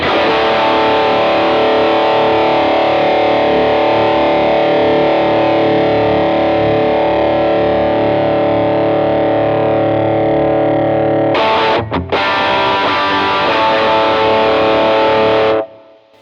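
A distorted electric guitar, a Gibson Les Paul gold top from the late 1980s, rings out in a long sustained chord, loud and buzzy, then a brief break and a second sustained strum that cuts off.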